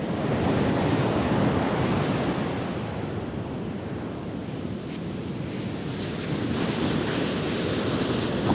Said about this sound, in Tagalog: Hindi makapaglaot, oh, lalaki ng alon.